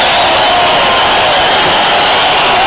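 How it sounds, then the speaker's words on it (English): A large arena crowd roars and cheers at a championship boxing match, a loud, dense, steady wall of voices without breaks. "there's the crowd. They love it."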